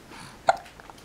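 One brief hiccup pops out close by, short and distinct, over quiet room tone.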